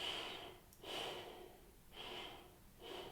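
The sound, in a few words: deep breathing through the diaphragm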